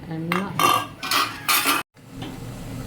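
A metal idli steamer plate being handled in a home kitchen, giving several sharp clanks and scraping metal knocks close by, with no talk and a sudden cutoff partway through.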